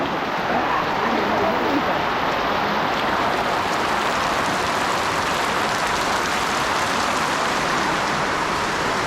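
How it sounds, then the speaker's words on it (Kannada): A heavy downpour roars as a constant, loud broadband wash at a wedding gathering, steady for the full stretch with faint voices underneath. "heavy rain"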